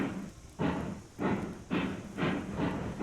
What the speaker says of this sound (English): I'm going to pull the log cars up in the pouring rain.